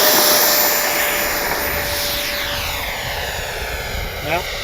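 A Freewing 90mm J-10 RC jet flies past with a loud, steady turbine whine and roar that sweeps in pitch as it passes, with wind noise and a voice speaking over it.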